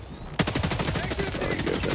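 Rapid hand cannon gunfire in a multiplayer shooter game, a dense burst of repeated loud shots in quick succession after a short quiet lead-in, with faint voices underneath.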